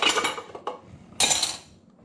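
Silverware being handled during home dishwashing: metal cutlery clinks and clatters against dishes in a few close, bright bursts, with a sharp jangle near the end and quiet gaps between.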